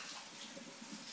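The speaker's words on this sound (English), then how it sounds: "Wash my hands again." Tap water runs steadily into a kitchen sink as hands are washed under it, a soft continuous hiss that stays close and fairly quiet, with no speech over it.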